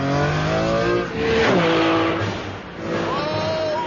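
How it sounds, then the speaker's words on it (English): A Maserati MC12 with a 6-litre V12 accelerates hard, its loud engine note climbing through the revs with gear-change dips and a brief tyre squeal, close and without talking. "it still has the same 6-litre V12 engine as the Enzo, and the same carbon fibre skeleton."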